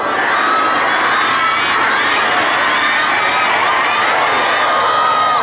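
A church congregation shouts loudly all at once during a sermon, a dense, sustained roar of many voices with high screams threaded through, filling the space without a break.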